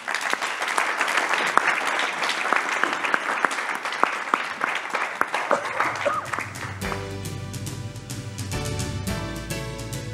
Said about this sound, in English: All right, round of applause for Mr.